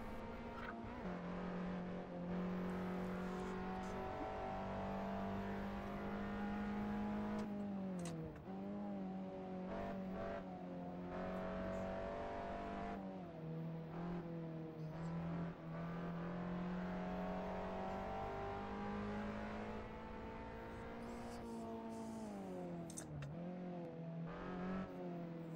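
A Nissan Pulsar race car in Assetto Corsa howls continuously under load, its engine pitch climbing through gears and dipping on shifts and lifts, with other cars' engines blending in the background.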